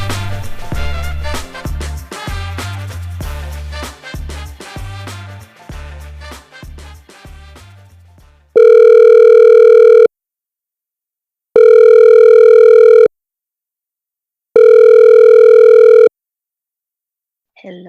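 A telephone line tone sounds before a phone call: three long, steady electronic beeps separated by short silences, coming right after a stretch of music.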